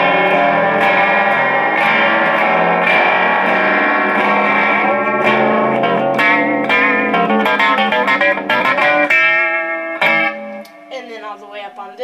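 Moog Moogerfooger MF-102 ring modulator processing a sine wave, giving a loud, sustained metallic, bell-like tone with shifting overtones and pulsing modulation that changes character toward the end.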